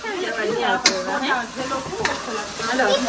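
Spice tempering crackling and sizzling in hot oil over an outdoor stove, a close, lively hiss with sharp pops and spoon scrapes throughout, sounding alone with no voice.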